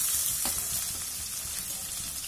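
Steady, close sizzling of chopped onions frying in a pan, a busy crackle throughout with a few faint stirring scrapes.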